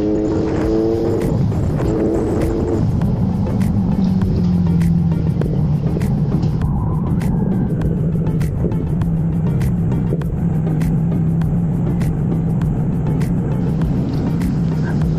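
Kawasaki Z900SE motorcycle fitted with an ARG racing muffler, revved up close: a loud deep exhaust rumble rising in bursts then settling into a sustained throaty drone with no talk.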